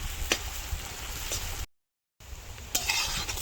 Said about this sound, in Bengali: এবারে আমি ওই পেঁয়াজের ওপর আমার ছেঁচানো যে আদা রসুনগুলো ছিল সেগুলো উপর থেকে দিয়ে দিলাম। এরকমভাবে আরও 5-6 সেকেন্ড নাড়ব।